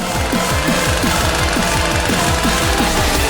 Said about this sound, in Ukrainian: Вже бензопила має впоратись.